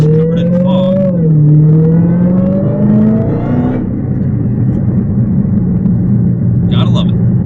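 Car engine driving along a foggy back road, a loud steady drone whose pitch climbs and drops as it shifts through gears, continuous and close throughout.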